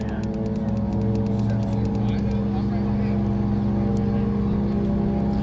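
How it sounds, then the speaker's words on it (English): A land speed race car engine roars loudly and continuously at El Mirage dry lake, a deep powerful drone with strong harmonics holding steady as the car runs at speed. "Roaring on a course now, car number 834."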